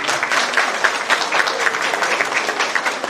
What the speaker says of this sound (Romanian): Încă o dată aplauze pentru oaspeții dumneavoastră, oaspeți de seamă.